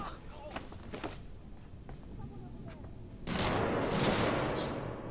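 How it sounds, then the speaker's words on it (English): Gunfire in the video game Alien: Isolation: after scattered faint knocks and distant shots, a loud sustained burst of rapid fire erupts and lasts about two seconds, with a voice talking faintly. "Okay, he's shooting."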